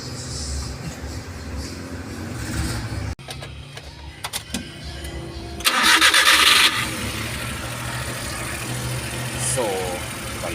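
A Suzuki Every DB52 engine runs with a misfire on cylinder number 2 and a P0120 fault, a steady, uneven mechanical drone that swells louder for a few seconds midway. Voices are faintly present.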